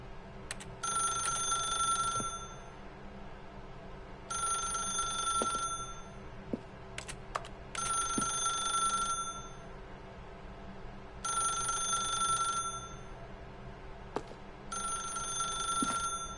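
A telephone rings in the video game The Stanley Parable Ultra Deluxe, with steady electronic trills in repeated bursts a few seconds apart. Each ring is clear and even, over a low ambient hum, and no one speaks.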